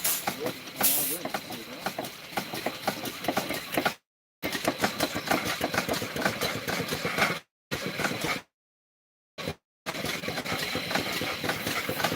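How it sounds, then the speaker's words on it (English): Two stationary engines, a Hornsby and a smaller Roby, running side by side, giving a steady rapid chuffing beat with hissing steam, close and loud, cut by a few brief silent gaps. "these 2 engines are running nice. This is a Hornsby on this side, and a little Roby there."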